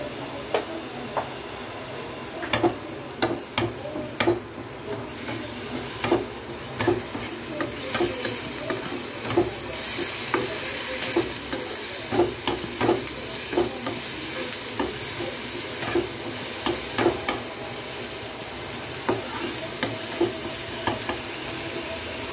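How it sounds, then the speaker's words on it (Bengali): Mutton stuffing with ginger paste sautéing in a pan: a steady soft sizzle with frequent sharp scraping and stirring clicks of a spatula, close and fairly quiet, no talk. "একটু সুন্দর করে কষে নেব।"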